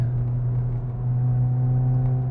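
Hyundai i20N hot hatch engine droning steadily from inside the car, a loud, even low hum with no clear rise or fall and no talk over it.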